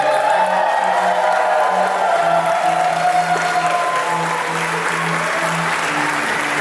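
Wedding guests cheer and applaud as a newly married couple is introduced, a steady, dense wash of clapping and crowd noise from a nearby audience throughout.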